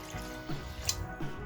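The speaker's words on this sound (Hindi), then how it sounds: "अब इसमें मैं 1 कप पानी ऐड कर रही हूँ" A cup of water poured into a pot of rice, a brief gurgling trickle with a few soft drips, close and quiet.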